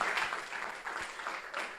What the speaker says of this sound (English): Applause for the person who led this in 2010.